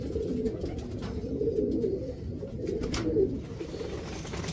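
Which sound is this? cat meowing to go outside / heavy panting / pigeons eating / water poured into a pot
pigeons eating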